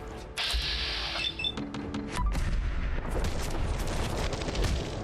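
SMG bursts in Fallout 4 ring out amid heavy, continuous combat noise, booming impacts and rumble, with rapid shots layered over a loud, dense background throughout.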